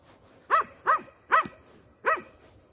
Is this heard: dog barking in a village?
yes